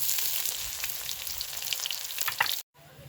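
Chopped onions fry in hot oil with whole cumin seeds, giving a steady, crackling sizzle with scattered pops before it cuts off abruptly near the end.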